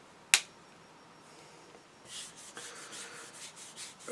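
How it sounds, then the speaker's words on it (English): A sealed container's lid clips shut with one sharp, close snap right at the start, followed by quieter rubbing and scraping handling noises. "You'll hear when I put the lid on the clip"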